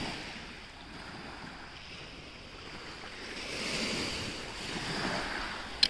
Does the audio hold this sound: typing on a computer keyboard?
no